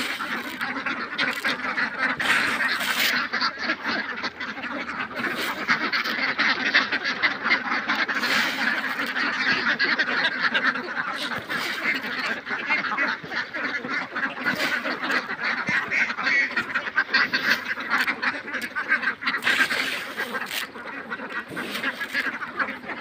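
Ducks quack loudly and continuously in a dense flock while being fed scattered paddy grains, with overlapping calls and no break throughout.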